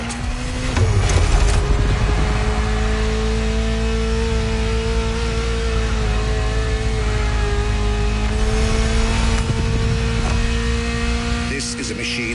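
Ferrari sports car engine in The Crew Motorfest racing game, a steady sustained drone with a held mid-pitched tone throughout, loud and continuous with slight pitch shifts, alongside a background voice.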